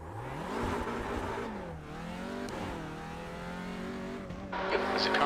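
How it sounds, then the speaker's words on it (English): Race car engine in a racing sim practice session, revving and shifting through gears with rising and falling pitch, loud and continuous, ending in a harsher burst. "There's a car approaching."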